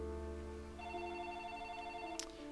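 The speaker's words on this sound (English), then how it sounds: "hold on, guys, I'm getting a phone call" A phone rings with an incoming call, a steady electronic tone held for about a second and a half, faint and somewhat distant over a low background hum, with a brief click at the end.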